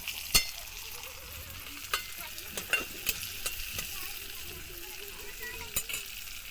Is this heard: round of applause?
no